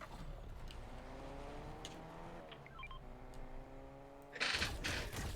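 A car engine revving in a video game, rising and falling tones climbing steadily at moderate loudness, then cut off by a sudden louder burst of noise near the end.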